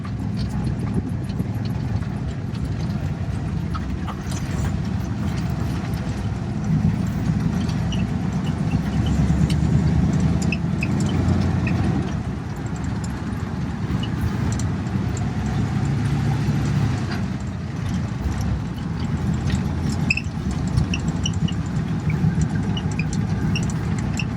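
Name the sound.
1932 Ford V8 Deluxe Phaeton engine driving in high gear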